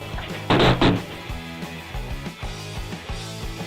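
A $1,000 Samsung UHD TV being broken during delivery: a loud crunching impact at the start, followed by scraping and knocking under a steady tonal music bed, fairly close.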